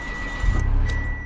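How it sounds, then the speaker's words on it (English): A 2024 Mitsubishi Mirage's small engine cranks and catches, a short low rumble that swells and settles into a steady close idle over a faint cabin chime tone, with no talking. "Listen to what this thing sounds like whenever I start it up."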